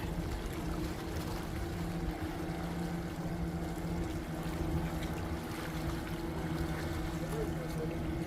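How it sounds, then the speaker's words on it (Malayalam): A small fishing boat motors past near Munambam breakwater beach, heading toward the estuary; a steady low engine drone runs throughout under faint water and ambient noise. "ഒരു മത്സ്യബന്ധന ചെറിയ ബോട്ട് മത്സ്യബന്ധന ബോട്ട് കടന്നു പോകുന്നു അഴിമുഖത്തേക്ക്"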